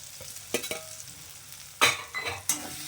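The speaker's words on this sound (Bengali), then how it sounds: "তো আলুগুলোকে এখন আমি এর সঙ্গে একটু ভালো করে কষিয়ে নেবো" Pre-fried potatoes are stir-fried in spice masala for a matar paneer made without onion or garlic, with a few quiet scrapes of a spatula against the pan over a faint sizzle, close by and without talk.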